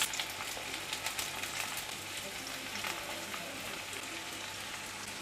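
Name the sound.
onion and coconut frying in oil in a wok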